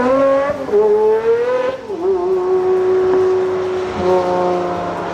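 A Pagani Zonda 760's AMG-derived 7.3-liter V12 revs hard, its pitch sweeping up and settling into a sustained high howl, then climbing again, close and continuous with no voices.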